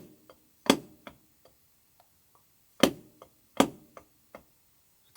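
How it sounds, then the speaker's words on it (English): A drum exercise of a flam tap followed by a Swiss Army triplet: sharp accented stick strokes with quieter grace notes and light taps between them, played alone in a close, dry room. "So it's one Flam tap and one Swiss Army triplet."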